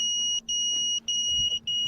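A crashed FPV quad drone sits on the ground emitting its lost-model alarm: a loud, shrill continuous electronic beep tone broken by brief regular gaps, repeating steadily with no voices.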